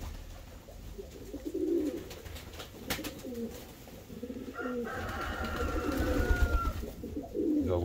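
Pigeons cooing at an evening dovecote, repeated soft low coos at close range with brief rustles and a few sharp clicks between calls.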